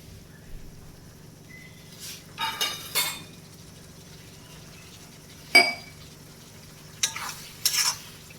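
Spices and Kashmiri chili being sautéed in a pan for a fish-head mung dal, with a soft background sizzle broken by scattered scraping stirs and clinks of a spoon against the pan.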